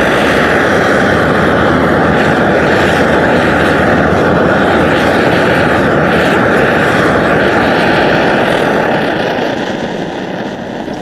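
A cranked-up camp stove used for baking a cake in an Outback Oven roars with a steady, loud, broadband hiss that holds constant for several seconds and eases slightly at the end, with no talking.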